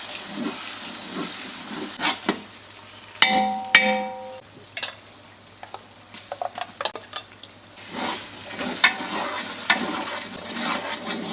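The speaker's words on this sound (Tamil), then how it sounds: "இஞ்சி பேஸ்ட் அறுநூறு கிராம் அப்புறம் பூண்டு பேஸ்ட் முந்நூறு கிராம் சேர்த்து பச்சை வாசனை போகிற வரைக்கும் வதக்கிக்கோங்க" Six hundred grams of ginger paste and three hundred grams of garlic paste sautéing in a large pot for a big batch of chicken biryani, hissing and steaming with intermittent metal scraping and clinks of a ladle.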